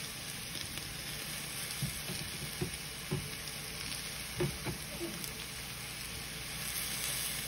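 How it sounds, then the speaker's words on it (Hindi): Chopped tomato hitting hot oil in a mutton (goat) curry masala, giving a steady close sizzle with a few soft stirring clacks, no voices. "नेक्स्ट स्टेप में मैं टमाटो जो चॉप करके रखा था एक टमाटो को डाल दूंगा।"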